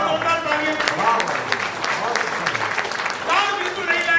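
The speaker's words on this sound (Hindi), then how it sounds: "एक बार जोरदार तालियां।" An audience at a Hindi poetry recital breaks into steady applause, a dense wash of clapping heard under a voice speaking and some musical tones.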